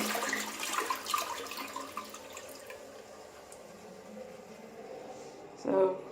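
A household toilet in Australia flushes, water rushing and swirling steadily into the bowl at close range for several seconds, with a brief louder gurgle near the end.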